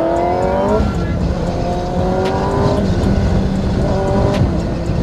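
Kawasaki ZX10R sport motorcycle on the road, its engine revving hard through rising pitch sweeps with gear changes between pulls, loud and close under wind rush.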